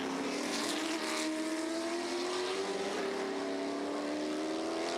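V-8 Formula 5000 open-wheeler racing cars from round 4 of the 2009 Tasman Revival Series scream past with a loud, sustained engine howl that rises steadily in pitch.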